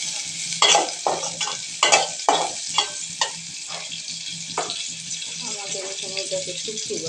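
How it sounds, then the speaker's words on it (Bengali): Sliced onions frying in oil in a pan, a soft sizzle under a series of sharp scraping and clattering stirs, busy at first and then quieter. "ছেড়ে দিল পেঁয়াজ আর তেল। তো পেঁয়াজটা ভেজে নিচ্ছে।"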